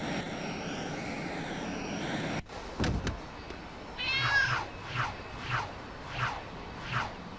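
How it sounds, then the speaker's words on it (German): A cartoonish cat in Lego City Undercover meows several times in a row over a soft game soundtrack, after a brief whooshing hum and a couple of sharp clicks. "Das ist die Katze."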